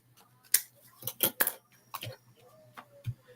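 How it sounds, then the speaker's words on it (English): Scissors snip around the edges of a handmade card in a short run of crisp, close clicks and cuts, some grouped in quick pairs with small pauses between, and no voices heard. "I'm going to go ahead and snip off the edges"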